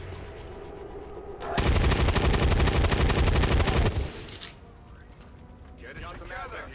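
Resistance soldiers fire at alien enemies in XCOM 2: War of the Chosen, a loud sustained burst of rapid automatic gunfire lasting a couple of seconds. A few sharp mechanical clanks follow, with a voice talking underneath.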